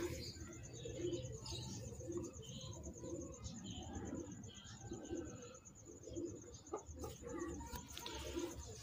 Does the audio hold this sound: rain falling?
no